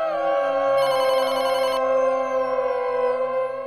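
A telephone rings with a steady electronic bell tone, loud and close, one sustained burst of ringing that fades off with no voices.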